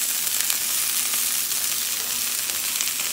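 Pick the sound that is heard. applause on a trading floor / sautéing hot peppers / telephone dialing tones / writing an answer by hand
sautéing hot peppers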